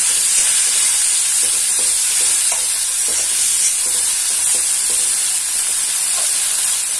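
Carrots and tomatoes roasting in a pan over a high flame, a loud, constant hissing sizzle with light stirring knocks, close and alone.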